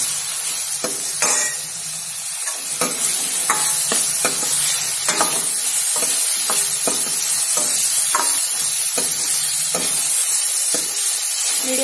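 Potatoes sprinkled with turmeric are stir-fried in a pan over medium heat, with a constant loud sizzle and a rhythmic series of spatula scrapes and taps against the pan.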